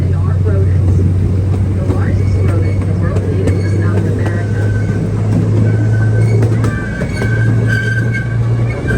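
A small zoo ride train rumbles along with a steady low engine drone and rattling, clanking wheels, loud and close, while voices talk over the running noise throughout.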